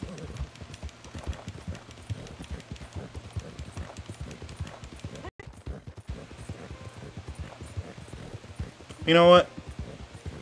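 Horse hooves clip-clopping in a steady rhythm during a long ride in Red Dead Redemption 2, with someone talking over the hoofbeats and a brief louder tonal sound near the end.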